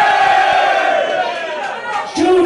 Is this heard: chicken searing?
no